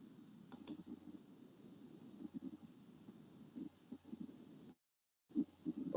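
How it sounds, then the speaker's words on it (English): A few sharp computer mouse clicks near the start, close and distinct, over a low steady background hum during spreadsheet data cleaning, with a faint quieter click or two later. "Let me click on OK and observe."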